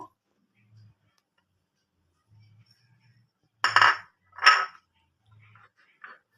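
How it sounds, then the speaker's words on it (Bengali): Two short, sharp plastic clicks and scrapes as the lid of an airtight container is pried open, close and clear against near silence, with faint low thumps around them. "ঢাকনাটা এবার খুলে দেখবো"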